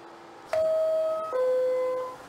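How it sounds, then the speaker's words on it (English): A two-tone subway door closing chime in the OpenBVE train simulator game, a clear electronic ding followed by a lower tone, sounding once, alone over a faint background hum. "Stand clear of closing doors."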